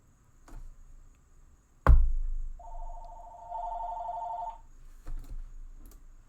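A phone rings with a short electronic trilling tone lasting about two seconds, fairly faint in a quiet room, after a sharp knock and among a few scattered clicks.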